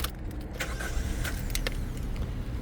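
A 2023 Suzuki Swift GL hatchback starting up, its engine catching and settling into a steady idle heard from close by, with some electrical whirring and clicks around it.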